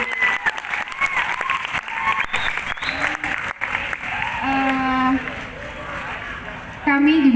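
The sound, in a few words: students applauding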